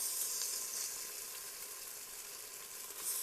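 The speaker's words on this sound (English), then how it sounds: "You can use whatever oil you would like to sear up your meat." Meat searing in oil in a hot pan gives a steady, bright, hissing sizzle that holds evenly throughout, close up, with no voices.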